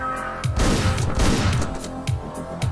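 Firearm shots in the top-down action game Hotline Miami, several sharp bursts in quick succession over a loud, busy game soundtrack with a heavy rhythmic beat.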